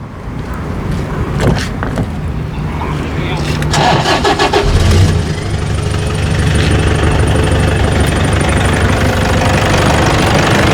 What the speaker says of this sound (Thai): ผมเชิญชมเสียงเครื่องกันเลยครับ